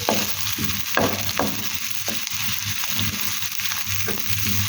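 Onions fry in a pan with a steady, close sizzle and crackle, broken by soft scraping stirs at irregular intervals.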